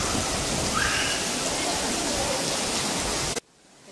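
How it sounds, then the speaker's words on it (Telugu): Heavy rain pours steadily on an outing to the Yadagiri Gutta Swarnagiri temple, a dense, loud, even hiss that holds for over three seconds before cutting off abruptly. "ఎంత వర్షం ఉందో."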